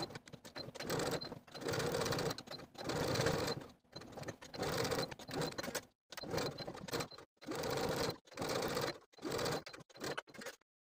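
A sewing machine edge stitches and then top stitches a pocket flap a quarter inch from the seam, running in several steady bursts of rapid mechanical whirring separated by short pauses.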